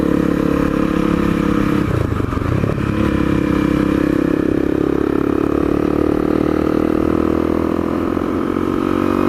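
A Honda CRF250L motorcycle engine drones continuously while riding, a steady close buzz with a brief dip in pitch partway through, loud and unbroken.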